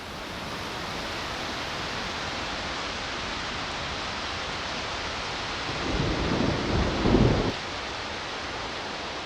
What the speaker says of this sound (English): The AI drum is now playing the thunder.